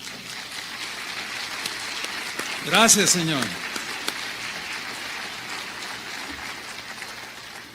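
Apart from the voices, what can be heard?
congregation applause in church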